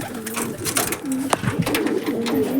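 Large pigeons waiting to be released coo repeatedly in low, rolling notes close by, over a light background hum.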